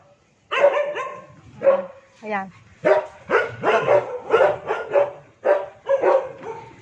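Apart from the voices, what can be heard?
street dogs barking at feeding time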